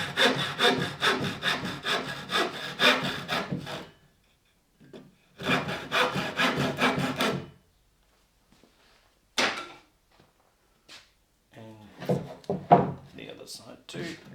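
A handsaw trims wood off a shelf in rapid back-and-forth strokes, two strong sawing bursts close up, followed by scattered knocks and wooden handling noises.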